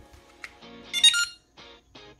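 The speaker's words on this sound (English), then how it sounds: "And you get a little beep." A short series of electronic beeps and chirping tones from a ToolKitRC M6 smart battery charger as it is plugged in, close and fairly quiet, with brief pauses between them.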